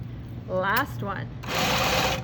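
A sewing machine whirs steadily while it top-stitches a shirt yoke seam, close and continuous. A voice speaks over the first half before the motor runs alone.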